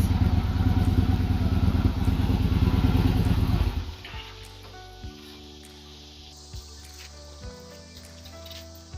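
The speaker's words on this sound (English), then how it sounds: "Y'all can hear my husband cranking up his bike because we're getting ready to go for a ride" A Can-Am Ryker three-wheeled motorcycle engine being cranked and running, a loud close rumbling idle for about four seconds before it fades behind quieter music.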